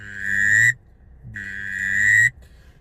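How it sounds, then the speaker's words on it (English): Two sustained whistled notes from a Drake duck whistle used as a waterfowl call, each about three-quarters of a second to a second long with a short gap between, clear and close with no talking. "a Drake whistle, carry it on your lanyard, learn how to use it"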